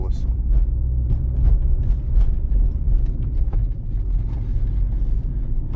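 Car driving along a city street in Rivne during a driving test route, with steady low road and engine rumble throughout and a voice talking over it.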